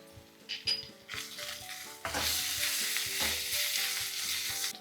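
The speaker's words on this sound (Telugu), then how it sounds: "ఇందులో అల్లం వెల్లుల్లి ముద్ద వేసుకోవాలి వేసి ఒక్కసారి బాగా మిక్స్ చేసేసి పచ్చివాసన పోయేంత వరకు వేగనివ్వాలి" Ginger-garlic paste frying with onions for baby potato kurma, a few stirring scrapes at first, then a loud, dense sizzle that swells and holds steady near the pan, no voices.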